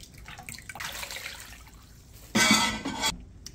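Fish stock being strained and poured into a pot in a home kitchen: a soft trickle of liquid swells into a louder, splashing pour lasting under a second, then tapers off, heard close with no talking.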